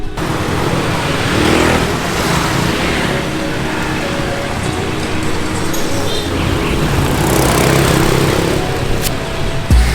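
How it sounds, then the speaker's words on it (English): Dense traffic pours through a four-way intersection in Vietnam, a continuous wash of engines and road roar that swells and eases, with no voices standing out. "behind me here is a four-way intersection here"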